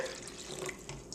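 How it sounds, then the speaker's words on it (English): Water runs from a tap into a slime mix, a brief, steady splashing flow of moderate loudness, heard alone. "So I will add more water,"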